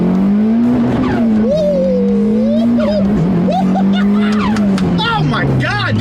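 A Mitsubishi Evo 8 under full throttle climbs through the revs as its turbo spools up, the engine note rising and straining loudly, with excited voices shouting over it in the cabin.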